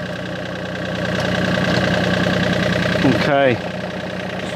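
A TYM tractor engine idles steadily at close range, then revs briefly near the end before settling back, with someone speaking over it.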